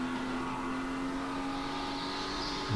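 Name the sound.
race car engine at full throttle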